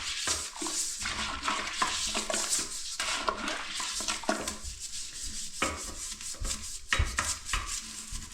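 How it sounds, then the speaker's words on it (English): A brush scrubs a toilet bowl treated with baking soda in steady, continuous rubbing strokes with brief pauses, a close and fairly loud bristly scraping with no talk over it. "I give a really good scrub with the brush."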